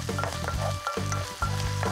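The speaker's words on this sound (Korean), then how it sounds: "버터가 어느 정도 녹으면 물기 제거한 굴을 넣고선 볶아주세요." Drained oysters stir-fry in melted butter in a pan, giving a continuous close sizzle with light stirring under melodic background music.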